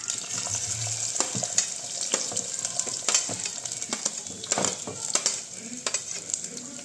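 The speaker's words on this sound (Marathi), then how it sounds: "तर कांदा चांगला फ्राय होऊ द्यायचा आहे" Onion frying in oil in a clay pot for a wild vegetable curry, a continuous bright sizzle with irregular scraping stirs and clacks throughout.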